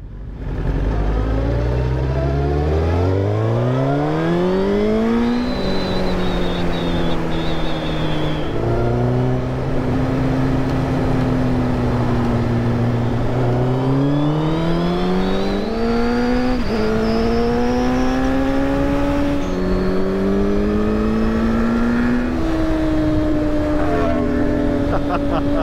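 Suzuki GSX-R1000 sport bikes with Tono exhausts rev loudly and pass close by, engine pitch climbing and falling through repeated gear changes in one continuous roar over faint background voices.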